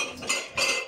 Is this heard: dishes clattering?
yes